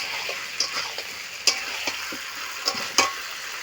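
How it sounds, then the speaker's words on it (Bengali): Chicken curry fries in a pan as water goes in, a soft low sizzle broken by sharp spoon taps and scrapes against the metal at an uneven pace. "এখন আমি জল দিয়ে দেব।"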